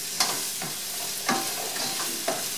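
A Monterey Jack cheese pot cooking on the stove hisses steadily while a spoon stirs it, giving several rhythmic scraping strokes over the sizzle.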